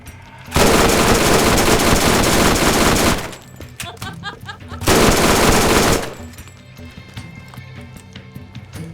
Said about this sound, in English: ricochet bullets underneath the spider ant to rip its abdomen off with a burst of rebound shots